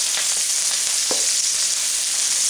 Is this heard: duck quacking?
no